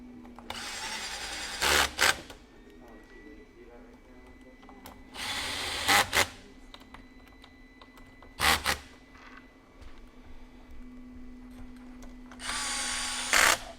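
Electric screwdriver driving screws into a goBILDA metal robot kit during a robotics build, four short loud whirring bursts spaced a few seconds apart over a steady low background hum, no talk.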